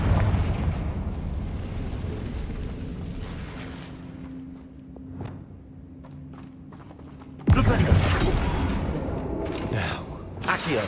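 Confringo fire-spell explosions in Hogwarts Legacy burst out amid busy game noise and combat, with one loud, sharp blast partway through followed by sustained crackling rumble.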